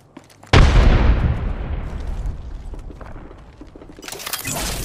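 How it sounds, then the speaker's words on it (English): A frag grenade explodes in the Apex Legends video game, Season 3, with a sudden loud blast whose deep rumble decays over a few seconds before a second burst of noise rises near the end. "Frag grenade sent."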